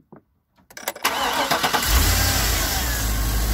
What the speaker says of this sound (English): then started the car